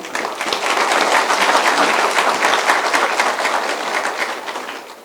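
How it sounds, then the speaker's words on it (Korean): Sustained applause fills the hall at a Korean cyber university entrance ceremony, a dense, steady wash of many hands clapping for several seconds before tapering slightly at the end. "모두 박수로 정현혁 교학처장님을 맞이해 주십시오."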